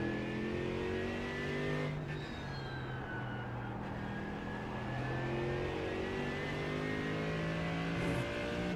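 Mercedes GT3 race car engine in a racing game on the Nordschleife, revving steadily and loud throughout, with gear shifts marked by brief drops in pitch near two and four seconds before it climbs again; no talking.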